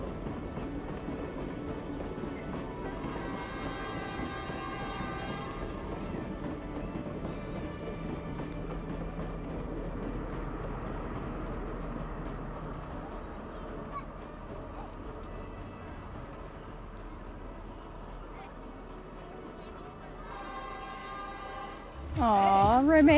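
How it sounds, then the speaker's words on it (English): A train rolling across a railway bridge in Sri Lanka, a steady low rumble throughout with horn-like tonal blasts near the start and end, crowd voices and talk mixed in. "I couldn't get over the amount of people just standing on the bridge as the train rolled by."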